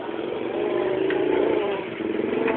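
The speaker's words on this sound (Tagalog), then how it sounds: "May motor ah." A motorcycle on a street drones past nearby with a steady mid-pitched engine hum that swells slightly and then eases, loud and continuous with no other sounds on top.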